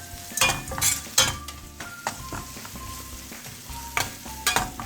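Tempering for South Indian curd rice is stirred in a pan on the stove: a bright sizzle runs under repeated scrapes and sharp metallic clinks of a spoon against the pan, with no voices.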